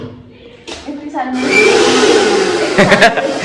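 Electric mixer grinder making pickle for a snack, motor whirring up after a short start and then running loud and steady with rattling, a voice audible at the start.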